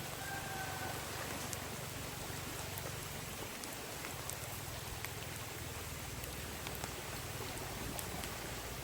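Heavy rain pours steadily beside a forest stream, a dense, even hiss of drops with scattered sharper patters throughout and no voices.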